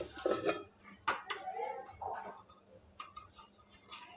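Instant rava appe are turned in the cups of an appe pan, with soft metallic taps and scrapes of the utensil against the pan, one sharper click among them, quiet and close with no talking.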